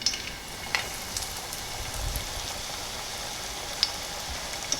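Striped bass fillets fry in a skillet with a faint, steady crackling hiss and a few scattered sharp pops, fairly quiet and uninterrupted.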